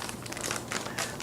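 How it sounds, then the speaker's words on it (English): A resealable plastic bag of panko breadcrumbs crinkles close up, a brief dense rustle of crackling plastic. "Comes in a nice little resealable bag."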